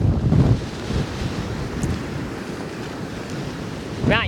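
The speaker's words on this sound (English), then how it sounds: "you might not be able to hear me in the wind" Strong wind buffets a microphone outdoors near a coastal sinkhole at Grange-over-Sands, a loud continuous roar with gusty swells at the start and end, a brief voice-like fragment near the close.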